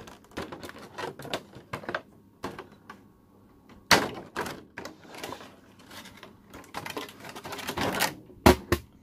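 Packing tape on a Resident Evil 2 Collector's Edition box for PS4 being cut and pulled, heard as a close series of sharp, irregular scraping and snapping bursts with no talking.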